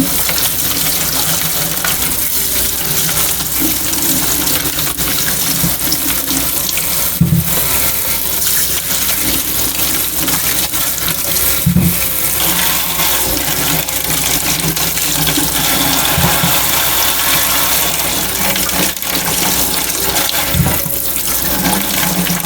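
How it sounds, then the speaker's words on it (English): Running tap water pours steadily over a pound of fresh strawberries being washed in a kitchen sink, a continuous broadband splash with a few brief knocks of fruit or hands, no talking. "I have a pound of strawberries, which I'm going to just wash and then cut up"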